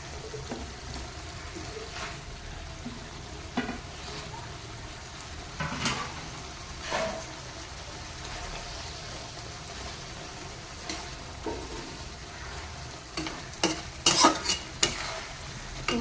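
Pabda fish added to a mustard and poppy seed gravy bubble and sizzle in the pan, a soft steady simmer punctuated by louder stirring scrapes and clatters, near and moderately loud with no speech.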